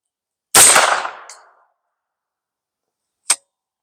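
A .22 rifle shot cracks once on an outdoor range and strikes a powder-filled Sput target, the sharp report fading over about a second; a faint tick follows, then a second short crack lands near the end.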